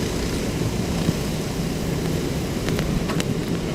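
Heavy rain pours steadily in Parañaque during a prolonged two-day downpour, a dense, constant roar of rushing water with a few faint sharp ticks, loud and unbroken throughout.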